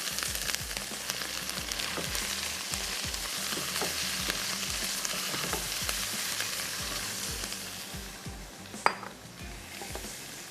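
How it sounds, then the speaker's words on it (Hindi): Chicken pieces sizzle and fry steadily in a pan while a utensil stirs them, with scattered clinks and scrapes against the metal and one sharper knock near the end. "थोड़ा सा चिकन को फ्राई होने देते हैं।"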